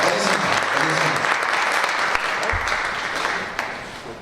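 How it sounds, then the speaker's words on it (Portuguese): An audience at a church sermon bursts into sustained applause, dense clapping that gradually thins out toward the end, with voices faintly underneath. "Uma salva de palmas."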